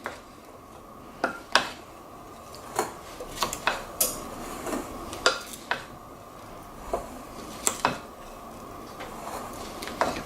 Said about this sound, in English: Get that nice and stirred in.